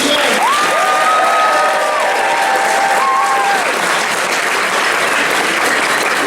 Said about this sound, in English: can we have a round of applause for Stephen J?